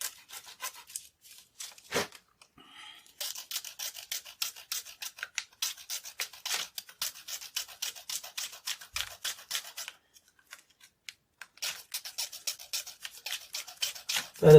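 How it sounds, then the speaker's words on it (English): Repeated short rasping strokes of a blade cutting through the hard plastic barrel of a Sharpie marker, close up, in quick rhythmic bursts with brief pauses and no talking. "Cutting through the plastic."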